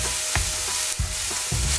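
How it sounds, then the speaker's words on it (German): Chopped, thawed chicken pieces and onions fry in a pan for a peanut curry, with a steady close sizzle and a few soft scrapes of stirring throughout, and no talking. "Als nächstes habe ich jetzt mein Hähnchen zerkleinert, da es jetzt aufgetaut ist, in so kleine Stückchen eben. Und geht's nochmal zusammen mit den Zwiebeln in die Pfanne."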